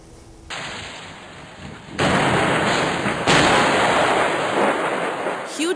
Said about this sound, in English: Huge explosions hit the Syrian town of Homs.